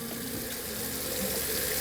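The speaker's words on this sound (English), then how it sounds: "We're going to run that water again." RV faucet running water through the trailer's plumbing during bleach sanitizing, a steady close rushing stream with no break and no talk.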